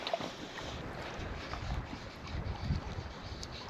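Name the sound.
northwesterly wind blowing outdoors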